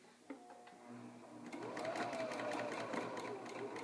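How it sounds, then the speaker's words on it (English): A sewing machine stitches along a folded fabric hem, starting with a short back stitch, then running steadily and loud with a fast, even mechanical rhythm close by. "I'm going to lower my presser foot and hand lower my needle so that it's right in the right spot for me to begin into my fabric. Back stitching."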